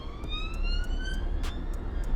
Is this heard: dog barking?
no